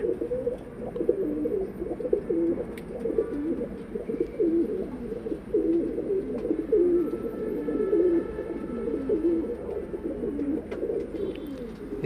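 Male pigeons on a rooftop coo steadily in a continuous low, throaty chorus, several birds overlapping close by with no talk.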